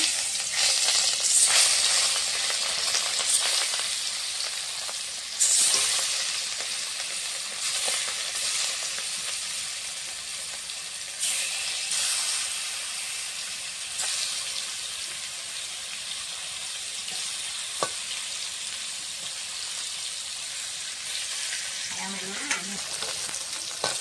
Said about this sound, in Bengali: কড়াতে দিয়ে দিয়েছি মাছ ভাজার জন্য তেলটা গরম হয়ে গেছে।